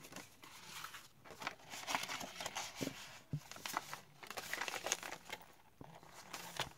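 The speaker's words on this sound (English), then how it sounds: "And made a little tag out of that leftover paper." Leftover paper handled and crinkled by hand while a small tag is made for a cigar-box junk journal, close, soft, irregular rustles and crackles with occasional sharper taps.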